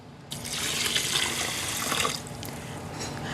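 Cold water pours from a tap into a rice cooker holding rinsed jasmine rice, starting abruptly as a loud, close, steady rush, then easing to a lighter flow near the end.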